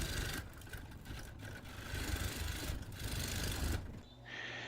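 A wood lathe spins a large ash bowl blank with a steady whir carrying a faint tonal hum. The sound wavers slightly, then the motor winds down near the end.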